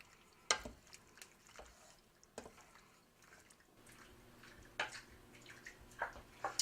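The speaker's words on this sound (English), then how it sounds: "just toss all that wonderful flavor together" Pasta being tossed with a liquid calamari sauce in a pan, with soft wet stirring and occasional sharp clinks and splashes, quiet and close.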